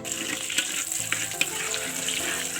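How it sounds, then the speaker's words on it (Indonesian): Chopped chili, shallot and garlic stir-fry in hot oil with a close, steady sizzle, while a spatula scrapes and taps against the pan a few times and no one speaks. "Kemudian kita oseng-oseng sampai wangi."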